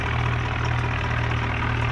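A tractor engine idles in a tractor simulator video game, producing a steady, loud, low mechanical drone with an even, rapid pulse and no voices.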